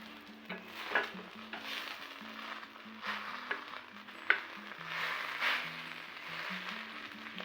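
An egg and cabbage snack fries in a pan with a soft, steady sizzle, broken by a few light clinks as it is turned, under quiet background music and no voices.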